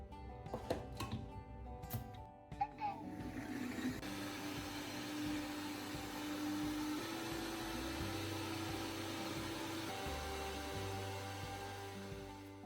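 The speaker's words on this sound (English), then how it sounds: "place them into a blender and blend until everything becomes as fine as possible" A blender grinding shrimp shells and heads whirs steadily at a loud, even pitch after a few brief clattering knocks at the start, grinding continuously without pause.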